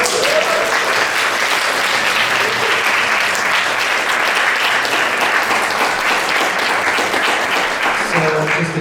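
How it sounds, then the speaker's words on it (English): Audience applause welcomes a lecturer on the history of Butoh at an evening salon series, sustained dense clapping from a room full of people, loud and even for several seconds before it begins to thin out at the end. "Yes, a round of applause."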